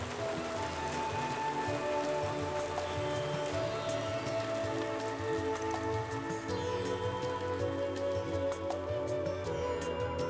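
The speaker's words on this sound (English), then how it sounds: "we can't really like step out. Well, it was raining, but that didn't stop us from having a lovely breakfast with the sound of the rains." Steady rain falls on surfaces around a breakfast spot on a Kerala island, a dense, even patter with scattered close drips that holds for the whole stretch, with no talking.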